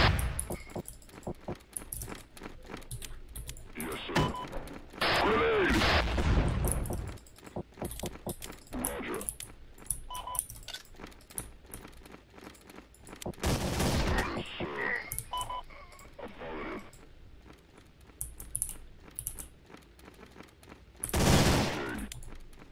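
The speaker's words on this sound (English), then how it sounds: "Machine gun there with a G89." Machine gun fire in the real-time strategy game Warcraft 3 Reforged, Undead Assault custom map, Grenadier on Insane mode: sustained rapid bursts of automatic fire with loud explosive blasts at intervals, busy and continuous throughout.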